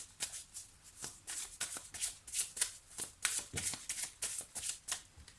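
Lenormand cards shuffled by hand, a quick series of soft riffling and slapping bursts, close and fairly quiet, repeating without a break for a few seconds.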